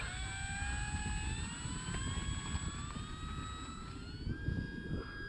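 An E-flite F4U Corsair RC model airplane of about 1.2 m wingspan takes off without flaps, its electric motor whining steadily at a high pitch that climbs in tone over outdoor wind rumble.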